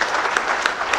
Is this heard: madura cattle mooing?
no